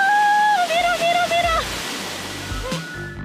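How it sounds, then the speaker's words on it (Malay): A waterfall roars with steady rushing water throughout, loud and close, while a voice sounds over it during the first second and a half. "Panorama air terjun yang indah dan bunyi deruan air membawa saya memasuki mood zen."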